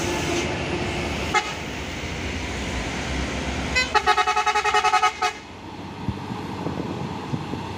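A trailer truck struggling on an uphill climb sounds a long horn in a rapid string of loud pulsing blasts over steady road and engine noise, with a single short toot earlier.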